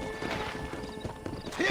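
A horse in the Western video game Red Dead Redemption clip-clops and neighs at close range, brief hoof hits and a whinny sounding fairly faint over a low background.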